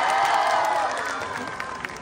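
Loud applause from an audience at a Queen of Arlegui 2025 costume pageant, a dense crowd clapping that slowly fades over a couple of seconds.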